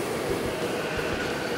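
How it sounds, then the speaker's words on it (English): Steady, loud rumble of a train standing in a station, a continuous low ambient drone with no distinct clatter and no voices. "what you see here is the ambient noise level with the train in the station"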